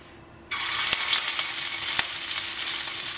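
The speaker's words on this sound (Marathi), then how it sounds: "आता आमी हे मीट बॉल्स फ्राय करूया तितून." Meatballs dropped into hot oil for shallow frying in a pan for Goan meatball curry, a quiet hiss that bursts into loud steady sizzling with a couple of sharp crackles.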